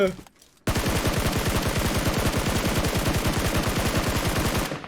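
Rapid automatic gunfire in the battle royale game PUBG Mobile, a long sustained burst of evenly spaced shots after a brief quiet moment, loud and close.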